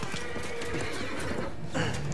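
A horse in the video game Red Dead Redemption 2 gives a loud, shaky whinny, with hoof clip-clops and a second neigh near the end.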